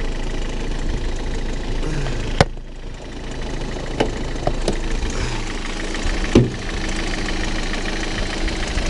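A Citroën Nemo engine runs steadily at idle, a low continuous rumble with a few sharp clicks and knocks scattered across it.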